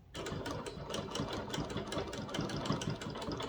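A sewing machine stitches a quilt design, running as a steady, rapid, close-up mechanical chatter of needle strokes that continues without pause and without talk.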